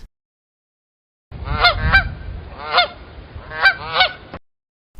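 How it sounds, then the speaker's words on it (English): A goose honks repeatedly at close range, with three clusters of harsh, nasal calls spaced about a second apart before falling silent. "goose"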